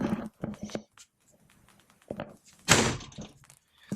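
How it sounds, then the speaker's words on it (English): Interior door of a Jayco Eagle HT 30.5MBOK fifth-wheel travel trailer, 2020 model, opening into the bedroom: a handful of short knocks and thuds with a louder bang near the end, close by and with no talking. "And you have the main door to the bedroom."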